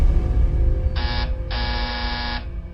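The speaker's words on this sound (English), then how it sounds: "That's the sound of the patient call button at the nurse's station." Electronic patient call buzzer at a hospital nurse's station, sounding as two steady bright tones, a short one then a longer one, over a low background hum.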